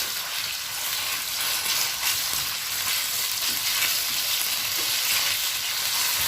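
Chicken pieces with chopped garlic cloves fry over high heat in a pan, a continuous bright sizzle and hiss with occasional stirring, close and steady.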